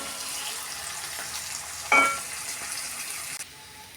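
Spices and ingredients for sweet mango pickle sizzling in a pan, a steady soft frying hiss throughout with one brief louder crackle of stirring midway.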